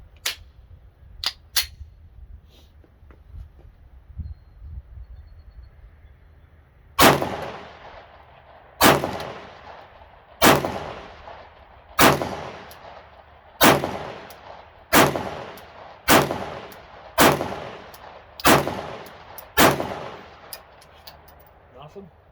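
Glock 19 Gen 5 pistol firing a steady string of about ten gunshots, one roughly every 1.5 seconds, each a loud sharp crack with a short ringing decay, after a few softer clicks and handling sounds.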